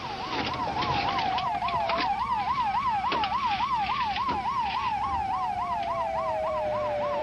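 An ambulance siren wails in a fast warbling yelp, loud and steady, with a second lower siren tone and road noise underneath.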